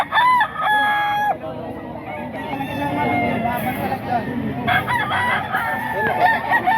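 White Kelso gamecock roosters crow loudly, one long call near the start and another later, with people chattering in the background.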